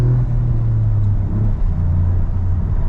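A Toyota GR Yaris with new rims and tires accelerates in third gear on track at TS Takata Circuit, its engine giving a steady, close, droning rumble from inside the cabin.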